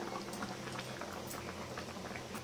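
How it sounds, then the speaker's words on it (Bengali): Chunks of rohu fish boil steadily in a sour curry made with dried mango, a dense, even bubbling and popping that carries on without pause and with no voices. "তো এটা মাছটাকে ফুটিয়ে নেব 2 মিনিটের জন্য"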